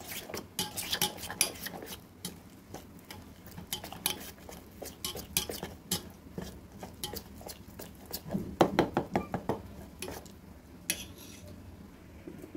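Banana flower pakora batter is mixed in a bowl, with rapid irregular spoon clinks and scrapes against the bowl, close and moderately loud, bursting in uneven clusters.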